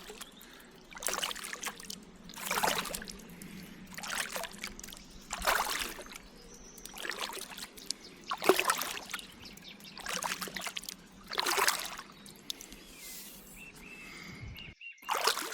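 A canoe paddled downstream on a river, with steady rhythmic paddle strokes splashing and dripping about every one and a half seconds, close by and moderately loud, over a faint low hum and a few distant bird calls.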